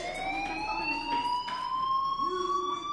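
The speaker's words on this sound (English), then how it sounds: "do you hear that fire alarm?" A school fire alarm in the video game Life is Strange rings out as a steady, continuous electronic tone, rising slightly in pitch, with faint background sounds beneath it and no talking.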